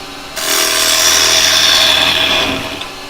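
Carbide woodturning tool held flat cutting a spinning wood blank on a lathe, a loud close rushing scrape that starts abruptly, holds steady for about two seconds and then eases off.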